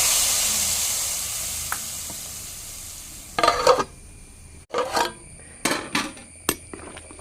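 A tempering of oil, mustard seeds, garlic, curry leaves and hing hisses loudly at first and slowly fades, followed by bursts of stirring and scraping in the pan.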